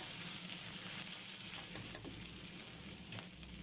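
Onions fry fast in a very hot wok, a close, steady crackling sizzle with a few sharp ticks and light stirring scrapes, fairly quiet and without talk.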